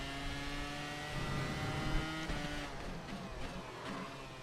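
Race car engine heard from the cockpit in the iRacing sim, a thin buzzy drone like a weed eater with steady whining harmonics that dip and rise as revs change, faint and continuous.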